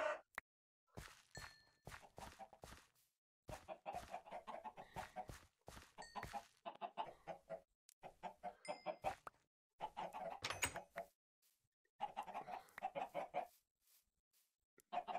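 Minecraft chickens in an FTB modpack cluck repeatedly in short, choppy bursts, close and fairly quiet, mixed with soft game clicks and footsteps and separated by brief silences.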